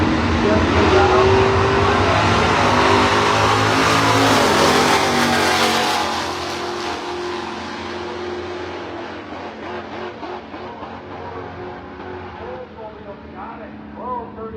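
Drag race cars launch down the strip at a GLSSA event, a loud, close roar of revving engines that peaks early and then fades as the cars pull away, with crowd and track noise behind.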